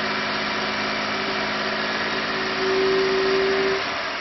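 A car engine under test with a Launch X431 scan tool, revved up and held at a steady RPM, producing a continuous loud drone that rises slightly in pitch and intensity near the end with no talking.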